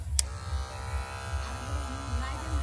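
Electric trimmer buzzing steadily while clipping a cow's hair outdoors in a village field, a low pulsing hum with a faint higher whine, close and continuous throughout with no talking.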